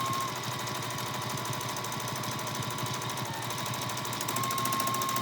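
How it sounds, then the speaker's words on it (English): A home sewing machine runs steadily and continuously while free motion quilting a pillow, a rapid even mechanical rattle that holds close and loud without a break. "So I'm ready to start free motion quilting on the pillow."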